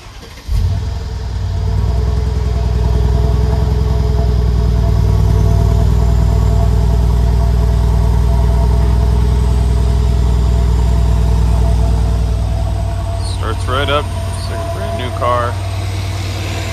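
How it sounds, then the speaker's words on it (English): A 22k-mile 2013 Mercedes-Benz SL550 fires up from cold with a loud, close burst and settles into a deep, steady exhaust idle heard from behind the car, while a person talks over it. "So we're going to go to the back so we can get a nice exhaust note."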